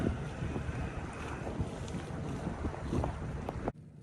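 A boat motors down the river toward a harbour on a windy December day, a steady engine hum under heavy wind buffeting the microphone, ending abruptly.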